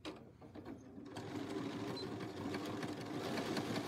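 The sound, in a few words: sewing machine zigzag stitching a seam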